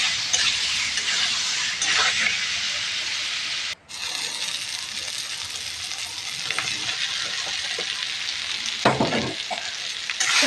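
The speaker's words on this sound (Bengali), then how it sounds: "এবার এর মধ্যে আমি আলুটা দিয়ে দিলাম।" Potatoes go into a frying spice masala for a soybean potato torka and are stirred, giving a loud steady sizzle with scraping and clinking of the spatula in the pan, with no talk.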